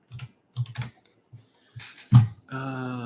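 Fingers tap a computer keyboard in short irregular bursts of clicks separated by brief pauses, close and fairly quiet, ending in a steadier stretch of sound.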